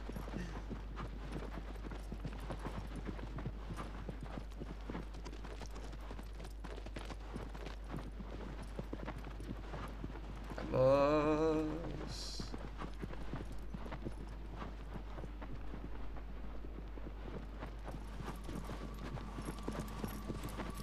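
Horse hooves clop along steadily in Shadow of the Colossus on PS4, a long, even run of close footfalls. Partway through, a brief louder tonal burst rises over them, and the hoofbeats carry on afterward.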